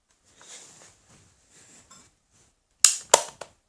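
An airsoft shotgun-style cartridge holding about 14 BBs is pushed into the gun: a few faint scraping handling sounds, then three sharp, close plastic clicks in quick succession.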